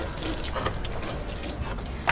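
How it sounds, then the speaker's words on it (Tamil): Water pours onto terrace garden plants, a continuous splashing trickle with a few louder spatters near the end, close by and with no talk over it. "இந்த மாதிரி தண்ணி ஊற்றுவாங்க"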